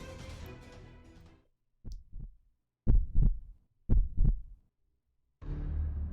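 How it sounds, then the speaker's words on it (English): Muffled heartbeat in a Fate/Grand Order scene, two soft pulses followed by two pairs of heavy, close thumps, set between stretches of low rumbling ambience. "A heartbeat sound."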